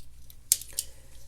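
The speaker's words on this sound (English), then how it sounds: "There's a much larger set of scissors on here, which are very nice, honestly." Larger scissors on a Swiss Army Knife snip twice in quick succession, two crisp metallic cuts, close and clear against a quiet background.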